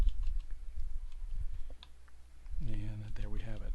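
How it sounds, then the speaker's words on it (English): A computer keyboard is tapped during roof modeling in SketchUp: a few soft, scattered key clicks close by, followed by someone starting to talk. "I can hit the right cursor key to lock on that axis, type in 24 for 24 inch spacing"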